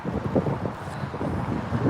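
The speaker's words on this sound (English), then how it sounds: "It's windy." Wind blowing outdoors during a community cleanup, a steady low rushing and buffeting against the microphone that holds at a fairly even level throughout, with no clear talk over it.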